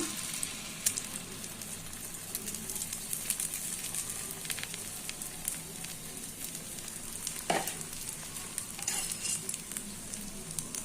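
Beaten egg mixed with spices hisses in hot oil, a continuous bright sizzle close by and moderately loud, with an occasional clink or stir partway through.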